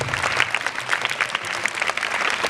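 A school audience at a United Nations Day event breaks into a hearty round of applause, a thick, steady burst of many hands clapping close and loud throughout.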